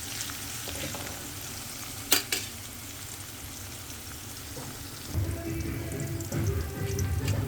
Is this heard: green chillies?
yes